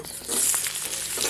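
Chopped onion dropped into hot oil already seasoned with cumin, bay leaf and garam masala sizzles steadily in a pan, a continuous near hiss with soft crackles throughout.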